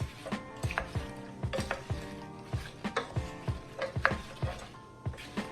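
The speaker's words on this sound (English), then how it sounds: "Let's just give this a mix." A spoon stirs applesauce ingredients in a pot to combine them, giving steady rhythmic scraping and clinking strokes that are close and moderately loud, with no talk.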